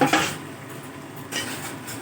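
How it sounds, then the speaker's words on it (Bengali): Whole onions, eight of them, dropped into a pot of mutton kosha, giving two sharp clattering knocks against the pot a second apart, with a quieter rattle between them. "এবার আমি গোটা পেঁয়াজগুলো দিয়ে দিচ্ছি।"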